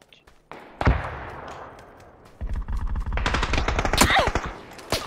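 MG3 machine gun fire in the PUBG video game: an isolated sharp shot, a lull, then sustained rapid automatic bursts that stay loud and close for the last few seconds.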